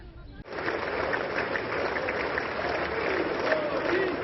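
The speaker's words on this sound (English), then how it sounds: "The Prime Minister walked into loud cheer and applause as lawmakers welcomed him." US lawmakers in Congress greet Prime Minister Narendra Modi with loud, sustained applause and cheering that starts abruptly and holds at full volume, a large roomful of clapping with scattered voices.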